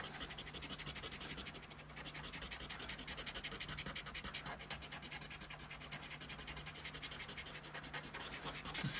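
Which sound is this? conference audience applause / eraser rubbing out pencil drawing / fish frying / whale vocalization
eraser rubbing out pencil drawing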